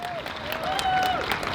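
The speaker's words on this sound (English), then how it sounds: "Please give them a big round of applause." Audience applause for a band just finished performing at an outdoor march rally, a dense wash of clapping with a faint whistle-like tone gliding through it.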